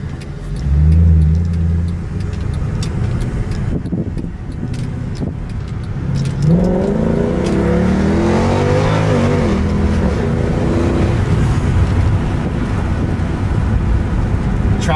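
A 2012 Mercedes C63 AMG fitted with a throttle controller revs and accelerates, a loud deep engine note climbing in pitch through rising harmonics after a brief lower drone, with road roar underneath.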